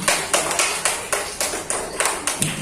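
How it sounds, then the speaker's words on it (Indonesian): A classroom group claps in a quick, uneven rhythm, roughly a dozen sharp claps over a few seconds, near and fairly faint. "tepuk tangan kita semua"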